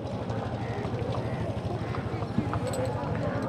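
A broad-bodied mare's hooves clip-clop at a horse market in Tandala, a steady, close rhythmic patter of hoofbeats under a continuous crowd murmur.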